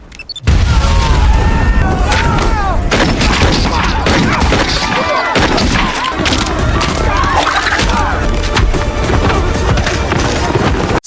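Remote-triggered bomb going off in an action film scene, a sudden loud blast followed by sustained roaring crashes and falling debris, with voices mixed in.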